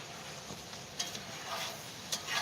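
Food frying in peanut oil in a skillet over high heat: soft, low sizzling with light crackles and an occasional clink, fairly quiet and steady.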